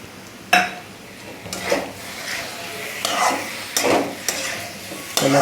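Yellow potato bhaji frying in a pan and being stirred, a soft continuous sizzle broken by repeated close scrapes and clinks of a spoon against the pan at irregular intervals.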